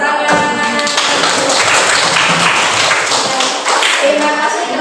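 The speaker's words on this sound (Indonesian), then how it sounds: "Ya, silakan beri tepuk tangan." Students in a classroom clap together in a loud, dense burst that carries on for several seconds, with a brief trace of voices near the start and end.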